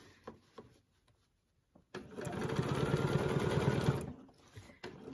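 A sewing machine runs in a steady, close mechanical whir for about two seconds while ruler quilting an orange peel design, framed by quiet handling clicks and rustles before and after.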